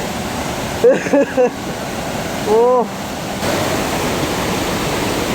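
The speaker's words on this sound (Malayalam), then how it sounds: "വെള്ളച്ചാട്ടത്തിൻ്റെ സൈഡിലെത്തി നമ്മൾ." A waterfall in Wayanad roars as a constant, close wash of falling water, with a few short voices and exclamations briefly rising over it.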